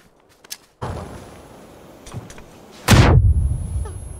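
Explosions in a video game: a sharp blast is followed about two seconds later by a louder, heavier boom that rolls on with a low rumble, with no voices over them.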